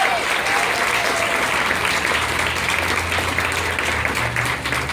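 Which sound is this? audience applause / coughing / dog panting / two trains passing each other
audience applause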